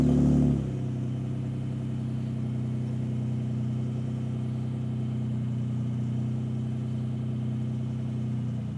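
A Roush-tuned Ford Raptor Gen 2 truck with a V6 fires up, a brief start burst settling straight into a steady, loud, deep idle rumble that holds evenly throughout.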